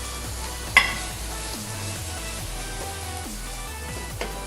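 Long-sliced onions sauté toward brown in a pan for beef tikka biryani, a continuous soft sizzle with a couple of clinks from a stirring utensil, steady and close with no voices.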